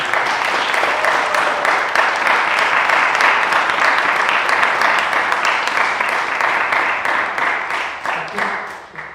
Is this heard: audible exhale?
no